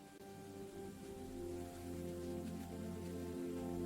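Steady pouring rain in a cartoon storm scene hisses continuously at a moderate level, with a low sustained hum of background music beneath it and no breaks.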